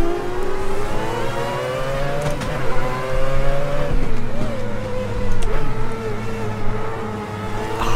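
Mazda 787B race car in Assetto Corsa, driven at Laguna Seca: its rotary engine screams loud and close, revving up and down through gear changes in rising and falling sweeps, with brief tire noise and no talking.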